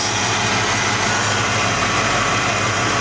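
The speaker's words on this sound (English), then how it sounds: "There's your AC compressor, it's running." A 1991 Ford Mustang Fox body idles with its AC compressor running, a steady, close engine drone with a low rumble and a constant hiss and whir over it, unchanged throughout and with no voices.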